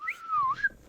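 A person whistles a short melodic phrase that rises and falls over under a second, fairly faint and alone, during a tabletop role-playing game session.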